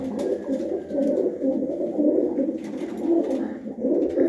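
Pigeons coo steadily throughout at close range in a loft in Gujrat, Pakistan, a continuous overlapping murmur of low, throaty calls with no talk over it.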